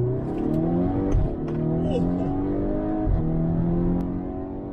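A VW Golf 6 R accelerating at full throttle, its engine rising steadily in pitch through the gears with brief shift breaks, loud and close from inside the car.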